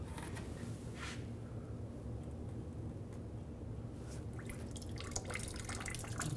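Coolant dripping from a detached radiator hose of a 2013-17 Nissan Sentra into a drain bucket, a quiet stream of irregular close drips and trickles over low garage hum.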